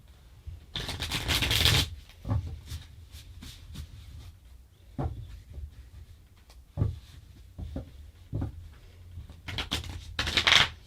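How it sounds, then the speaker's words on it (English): A deck of tarot-style pick-a-card cards being shuffled by hand, with two loud riffling bursts at the start and end and scattered soft card taps and slides between, close and alone. "Ignore the bad shuffle."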